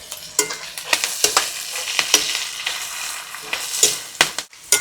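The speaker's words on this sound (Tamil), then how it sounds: "நல்லா தக்காளிலாம் நல்லா வதங்கிடுச்சு." Tomatoes and curry leaves fry in a pan while being stirred, giving a loud, close sizzle broken by repeated scraping and clattering strokes of the spoon.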